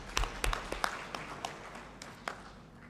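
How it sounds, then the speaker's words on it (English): Sparse, fairly faint clapping from a conference audience in a health care meeting hall, a handful of separate claps scattered over a few seconds and tapering off. "can we give him another round of applause?"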